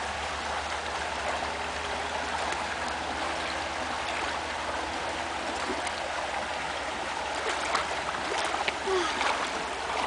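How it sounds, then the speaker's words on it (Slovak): Water scooped from the deep Váh river, heard as continuous broadband stream flow with faint splashing close by, steady throughout with slight rises near the end. "Tu sa najlepšie naberá voda z hlbokého váhu"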